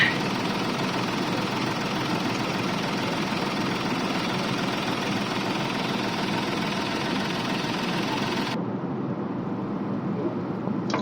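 A Mahindra KUV100 engine running with damaged clutch plate springs, a steady low rumbling idle with a rapid rattling vibration, close and constant for about eight seconds before the sound cuts to a quieter, duller hum.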